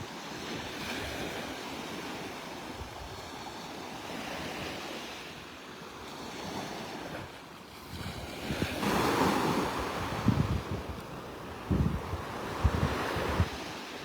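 Ocean waves break and wash up on a beach in North Naples, Florida, a steady surf roar with louder surges toward the end, mixed with gusts of wind buffeting the microphone.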